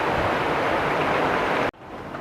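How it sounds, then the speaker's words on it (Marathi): A kitchen mixer grinder whirring loud and steady at close range, a dense broadband roar that cuts off abruptly near the end, leaving a quieter background hum. "आणि आता मिक्सर लावून घेते"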